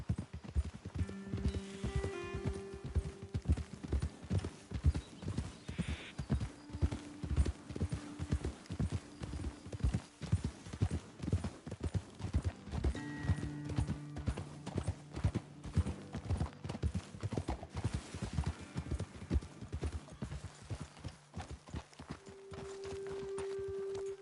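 Steady clip-clop of horse hooves at a walking pace in the video game Red Dead Redemption II, with an occasional whinny and snort over a quiet background.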